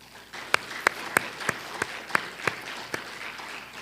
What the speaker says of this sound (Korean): 진심으로 한번 박수 한번 쳐주세요.